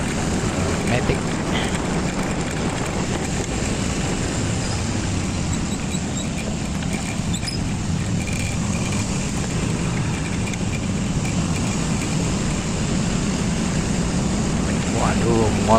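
An automatic scooter rides behind a big motorbike on the road, with a continuous engine drone and rushing wind noise heard from the rider's position, under occasional talk.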